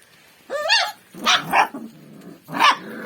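A household dog barks three times in a farmyard, sharp and fairly close, with short pauses between the barks.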